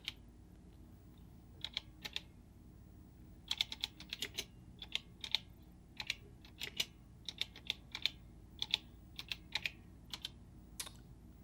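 Typing on an authentic Tandy CoCo computer keyboard, with quiet, sparse clicking keystrokes arriving in uneven bursts and short pauses against a faint steady hum.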